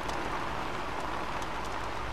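Rain falls steadily in the LEGO Jurassic World video game, a constant dense hiss of drops with no breaks, moderately quiet and even throughout.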